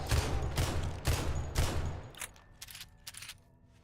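Gunfire in the 7 Days To Die video game: four loud rapid shots in a steady rhythm, then several fainter, more scattered shots trailing off, with no talking.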